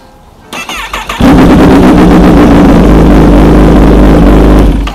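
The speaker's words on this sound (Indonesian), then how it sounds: "Yang kedua kita coba nyalain motornya" A Kawasaki ZX10R sport motorcycle engine cranks briefly with the starter, then fires and settles into a loud, close, steady idle that holds to the end.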